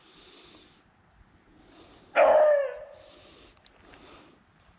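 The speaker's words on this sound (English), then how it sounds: "Beagle on the hunt. I heard him crying from inside the shop." A beagle on the hunt gives a single loud, drawn-out howling cry from nearby, rising and fading over about a second, with quiet background and faint distant sounds before and after.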